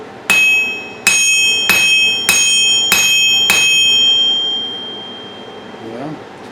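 Six sharp metallic hammer blows on a 66-pound Vevor steel anvil at a steady pace, each leaving a bright ringing tone that lingers and fades after the last strike.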